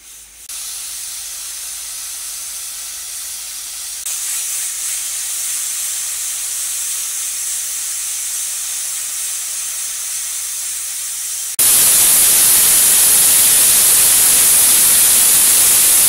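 Steady, loud hiss of steam venting from a pressure cooker of chicken biryani after the heat is turned off, continuous throughout and growing harsher and louder near the end.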